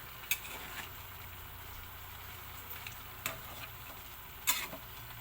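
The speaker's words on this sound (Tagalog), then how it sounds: "Haluin po natin." Papaya being stirred in a cooking pot, with a faint bubbling simmer and a few distinct scraping knocks of the spoon against the pot.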